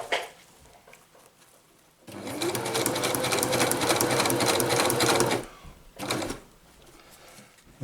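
Sewing machine stitching a fabric stuff sack, running in one loud continuous burst of about three seconds, then a brief second run after a pause, with quiet handling around it.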